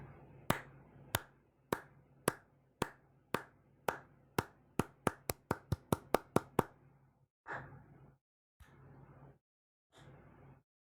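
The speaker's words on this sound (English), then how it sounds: "You should see my hands clap, and you should hear the clap." Hand claps for an audio sync test: about fifteen sharp, close claps, speeding up into a quick burst, then a pause and three softer, duller claps spaced apart.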